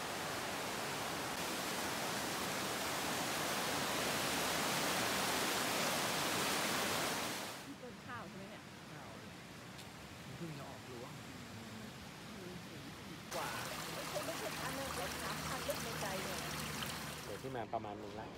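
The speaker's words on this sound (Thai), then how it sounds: "ได้ยินเสียงน้ำไหลเนี่ยตรงนี้ข้างล่าง" Water flowing in a stream below a path at Doi Inthanon, a steady broad rush that is loud at first and then softer behind faint background sounds.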